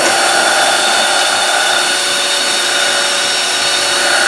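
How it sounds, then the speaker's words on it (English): A foot-controlled sander turns down a wooden dowel for a Gretsch guitar job, giving a loud, steady broadband whir that runs unbroken with no talking. "we've got our foot-controlled sander here. So this is how I turn the meat of this dowel down."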